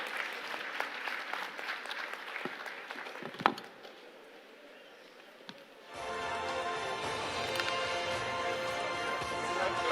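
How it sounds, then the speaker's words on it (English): Scattered clapping builds into full audience applause, a dense, sustained wash of many hands clapping at moderate distance. "Please give them a round of applause."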